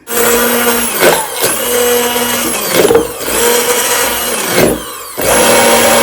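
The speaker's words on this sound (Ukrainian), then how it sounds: "І зараз буду перебивати погружним блендером." An immersion blender whirs loudly through spinach in several bursts, pausing briefly between them, its motor pitch dipping and rising as it churns.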